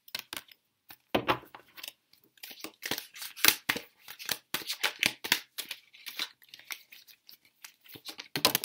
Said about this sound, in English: these cards are a little difficult for me to shuffle because my hand does not go all the way around